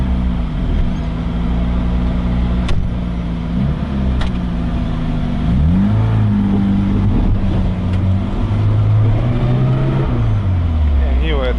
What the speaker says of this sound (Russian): Нива, это трактор, конечно.